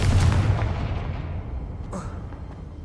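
Confringo blasting spell going off in a Harry Potter video game, a loud booming burst at the start that rolls into a sustained rumbling decay, with a short sharp crackle near the two-second mark.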